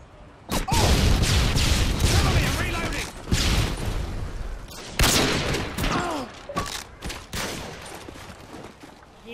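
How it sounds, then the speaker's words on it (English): A stun grenade going off in a video game firefight, amid several sharp, loud bangs and bursts of gunfire spread across the clip, with voices talking underneath. "Throwing stun grenade."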